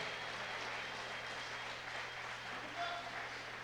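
Applause fills a church service as a congregation claps in a steady, even wash of sound, faint and distant with a low hum beneath.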